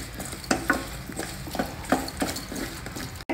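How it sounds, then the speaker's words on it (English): A spoon stirring spiced vegetables with dhania and chili powder in a pan, several scraping strokes over a soft sizzle, close and clear. "Mix everything and just allow the vegetables to cook for a while."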